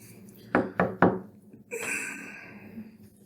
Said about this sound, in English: Were you knocking on the wall or the floor